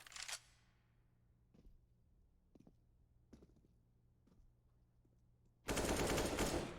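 Counter-Strike gunfire on the Mirage map, a few sharp, scattered shots cracking at moderate distance over a quiet backdrop, followed by a sudden loud burst of noise toward the end.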